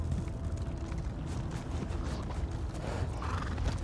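A horse whinnies in the video game The Elder Scrolls Online amid a rumbling, busy background of hooves and low noise, moderately loud and close.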